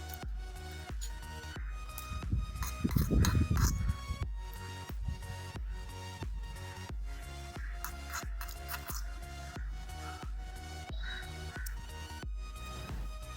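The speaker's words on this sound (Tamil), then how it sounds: "கடுகு வெடிச்சிடுச்சு" Rapid, irregular crackling and sharp pops of mustard seeds frying in hot oil, a steady sizzle with a louder burst of popping early on.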